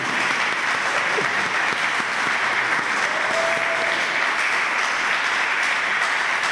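Audience at a cultural event in a local history house applauds an artist with steady, uniform clapping that holds at an even level throughout.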